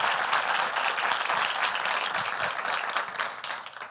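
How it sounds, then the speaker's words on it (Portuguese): Audience applause welcoming a speaker at a youth gathering, a dense, steady burst of many hands clapping that slowly thins toward the end. "Com uma salva de palmas, convidamos Ricardo Yang"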